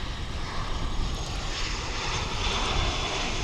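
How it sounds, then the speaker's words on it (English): American Airlines Airbus A319 landing at DFW, its engines a loud, continuous close roar with a slight swell toward the end, no voices over it. "Coming in from Mexico City is this Airbus A319, American Airlines 1374"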